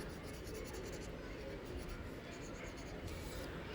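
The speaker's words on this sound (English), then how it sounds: "Color the whole entire thing right over all of your patterns." A marker colors over a printed design on paper, a continuous soft scratchy scrubbing that stays at a steady level, close and faint with no pauses.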